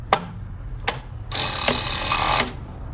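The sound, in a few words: Jack C4 overlock sewing machine stitching a fabric scrap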